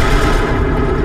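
A loud gunshot boom in Battlefield 3, with a heavy low rumble sustained across a short burst of battle noise.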